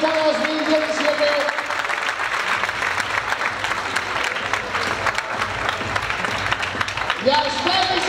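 Audience applause fills an award ceremony for the 2017 Vizcaya championship as medals and diplomas are handed out, a dense, steady round of clapping that holds strong throughout, with a faint voice briefly at the start and end.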